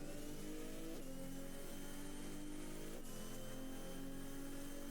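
A Nissan R34 in the driving game No Hesi revs and holds a high engine drone, with a loud sustained turbo whistle over it and shifting pitch as it accelerates, dense and continuous.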